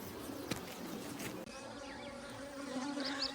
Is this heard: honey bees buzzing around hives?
yes